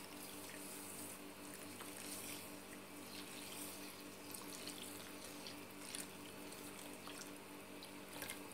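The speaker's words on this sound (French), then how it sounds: "Maintenant, je mets un peu d'eau." Water pours for vegetable couscous in a home kitchen, a soft continuous splashing stream with faint drips, quiet and steady with no talking.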